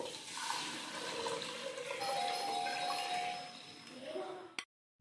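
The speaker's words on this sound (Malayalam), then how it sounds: "ഇനി നമുക്ക് ആ 1 ലിറ്റർ പാൽ ഒഴിക്കാം" One litre of milk pouring into a pressure cooker for rice payasam, a continuous close splashing gush that ends with a brief clink and then silence.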